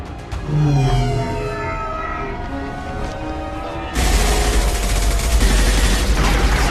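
Gunfire in the Mass Effect video game: a sudden loud burst of shooting breaks in after a few seconds of ambient music and noise and continues as a dense, close volley.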